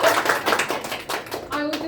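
A class of students claps for their class president, with a brief burst of close, busy hand clapping and children's voices mixed in.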